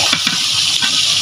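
Duck meat stirred and sautéed in a pan, a dense close sizzle with quick rhythmic scraping strokes of a spatula, no voices.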